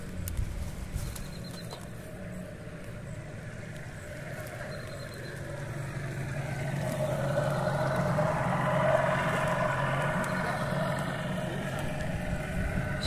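A fishing boat engine drones on a small river at a distance, its hum slowly swelling as it draws nearer, then easing off again.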